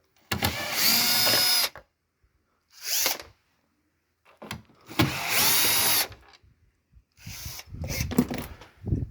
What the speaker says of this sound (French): avec un tournevis cruciforme ou une visseuse comme moi